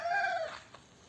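A rooster's crow, heard briefly and close: a loud drawn-out call that fades quickly into quiet.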